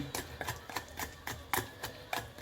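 Repeated sharp pounding strikes of a stone pestle in a mortar making chili paste, about eight evenly spaced thuds, close and clear with no talk.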